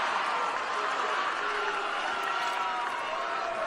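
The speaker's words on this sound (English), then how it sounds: "Big Fort Gibson crowd here, and they're very happy about this." A large home crowd of Fort Gibson fans cheers steadily at a girls' state basketball game against Newcastle, producing a continuous broad roar with a commentator's voice faintly underneath.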